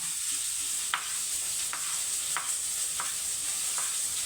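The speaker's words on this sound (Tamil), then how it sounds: "இப்போ பாருங்கள் வெங்காயம் எந்த அளவுக்கு வதங்கியிருக்கா" Onions sauté in a pan for a country chicken curry, a steady soft sizzle punctuated by about five sharp scraping stirs of a spoon at regular intervals, close and clear.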